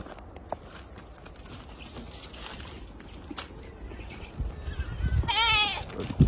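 Goats bleat on an island farm with kids among the herd, a faint call early on and a louder, wavering bleat near the end over rustling and outdoor background noise.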